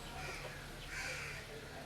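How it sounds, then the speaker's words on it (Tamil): A crow caws faintly around a house, its calls rising briefly over a steady background hiss. "காக்கா எவ்வளோ ஜாலியாக வீட்டுக்குள்ளே போய் வந்து பாருங்க."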